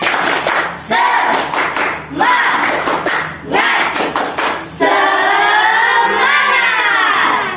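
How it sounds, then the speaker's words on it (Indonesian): Classroom students perform a rhythmic spirit clap, bursts of unison hand claps in short patterned groups broken by brief pauses, ending in a sustained chanted shout from the class. "Tepuk semangat."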